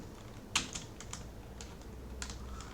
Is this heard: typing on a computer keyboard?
yes